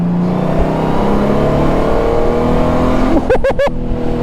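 Honda Gold Wing GL1800 touring motorcycle pulling hard at full throttle, a steady loud engine drone with wind and road roar that holds throughout, followed by a few brief rising tones near the end.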